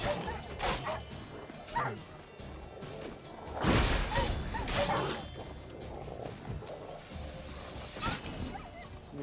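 Dogs bark and yelp in a fight in The Witcher 3 video game, with sharp bursts amid crashes and combat noise and a player's voice talking now and then.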